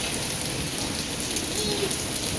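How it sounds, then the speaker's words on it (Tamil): Heavy rain pours down steadily on a cloudy day, a dense, continuous hiss of drops hitting surfaces with no pauses and no voices. "சரியான மழை இன்னைக்கு"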